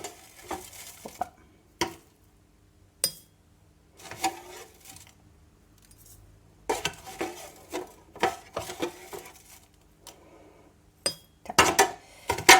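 Loose tea is spooned into a teapot: a run of sharp metal-on-ceramic clinks and scrapes comes in separated bursts, with quiet gaps between the scoops.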